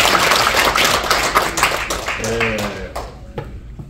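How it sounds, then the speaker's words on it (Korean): Applause from a rally audience after a call for impeachment hearings to reopen, broad clapping mixed with crowd voices and talk that fades toward the end. "박수 한번 일단."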